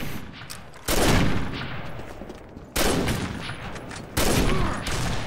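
L96A1 sniper rifle firing in a video game, three loud close shots each followed by a ringing, slowly fading tail.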